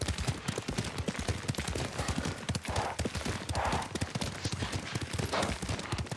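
Horse hooves clop in a steady galloping rhythm as a rider travels on horseback in the Ghost of Tsushima video game, loud and close, with a few faint breathy whooshes in the mix.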